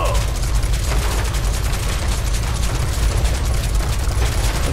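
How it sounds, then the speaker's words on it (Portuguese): Barret's arm-mounted gun fires nonstop in the video game Final Fantasy VII Remake, a loud, dense, unbroken rattle of automatic gunfire filling the whole stretch. "O legal dessa arma do Barrett é que ela é de munição infinita."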